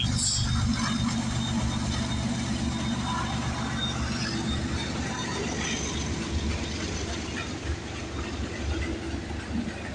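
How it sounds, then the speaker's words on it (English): A CN freight train rolls past at a railway line, with a loud, continuous low rumble and rattling of cars going on throughout. "We got a CN train already."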